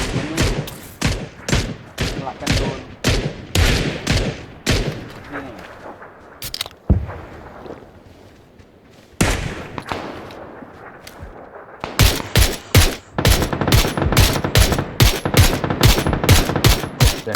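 PUBG gunfire cracks out as rapid, loud, repeated shots in quick bursts. A short lull with low ambience follows, then another fast volley of close shots.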